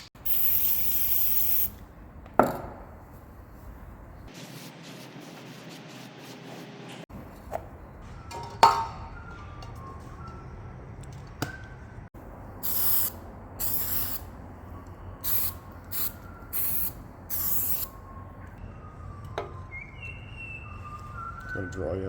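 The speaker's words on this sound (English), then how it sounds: "Then I can put on the developer, which will draw the red penetrant through it to expose the crack" Developer sprayed from an aerosol can onto a cracked cast iron housing for dye penetrant testing, hissing bursts of spray near the start and again in short intermittent puffs later, with someone talking in between.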